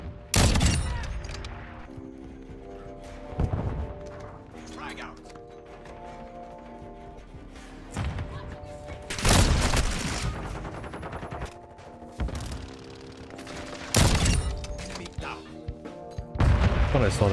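Gunfire in Call of Duty Modern Warfare 2 multiplayer: repeated bursts of rapid automatic shots and sharp single reports, loud and close, separated by quieter stretches of game ambience.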